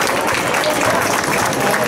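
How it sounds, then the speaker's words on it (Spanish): A festival crowd at the Romería San Juan Bautista in Tenteniguada gives Carmelo a loud, dense round of clapping that fills the space steadily from start to finish, with no voices standing out above it. "un fuerte aplauso a Carmelo"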